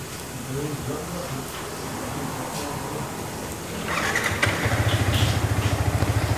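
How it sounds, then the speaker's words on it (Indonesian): A Yamaha R15 motorcycle with a stalling fault starts up partway through, its engine catching and settling into a steady, close, rhythmic idle after low background noise and some nearby speech. "Sekarang kita hidupkan motornya."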